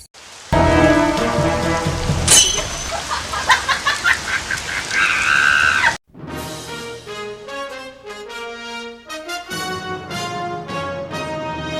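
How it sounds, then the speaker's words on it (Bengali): Heavy rain pours down as a loud, dense, steady hiss for about six seconds, then stops abruptly and music takes over. "আরে বৃষ্টি আইয়ের"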